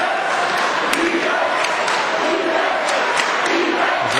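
A gym crowd at a high school basketball game between Harry Ainlay and Vancouver College keeps up a steady murmur and scattered shouts, with sneaker squeaks and a whistle-like ping rising now and then beneath a commentator's voice.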